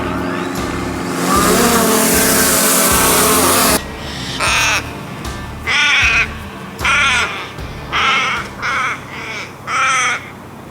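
Crows caw outdoors in a series of loud, harsh calls, close by and spaced in irregular bursts, following a brief stretch of rushing wind or passing traffic noise at the start.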